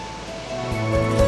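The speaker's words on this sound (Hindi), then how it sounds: "पानी का शोर हर तरफ से अभी भी सुनाई दे रहा था" A steady broad roar of a rushing mountain river fills the air around a walking trail in the hills, constant and close with no pauses.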